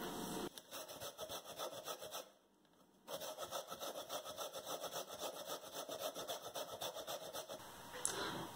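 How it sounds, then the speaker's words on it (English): Fresh coconut is grated by hand for Jamaican grater cake, making a fast, even run of rasping scrapes. The strokes stop briefly partway through, then carry on at a steady rhythm, close and clear, with no speech. "So we'll just continue grating."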